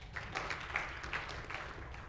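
Scattered, sparse clapping from a conference keynote audience at a Python developer event, a thin patter of hands lasting about two seconds, fairly quiet and distant with no talk over it.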